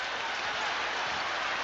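Arena crowd noise from a 1989–90 college basketball game, Illinois at Iowa, filling the space as a dense, steady roar of cheering and clapping with no break, loud and continuous throughout.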